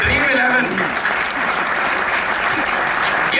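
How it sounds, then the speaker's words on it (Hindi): An audience at a Hindu-themed poetry gathering (kavi sammelan) in Ghaziabad breaks into sustained, dense applause, loud and close, with crowd noise throughout. "यदि आप लोग सहमत हो मेरी बात से तो एक बार जरा मुझे तालियां बजा करके बताइए।"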